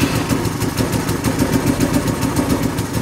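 A motorcycle engine held at full throttle runs hard and steady, a loud rapid pulsing roar that holds at high revs for a few seconds; the bike is running poorly.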